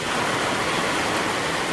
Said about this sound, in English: I like the rain, but we got a big thunderstorm going on